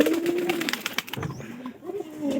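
Giribaz tumbler pigeons cooing close by, a few low rolling coos running through the first second and again near the end, with soft rustling between.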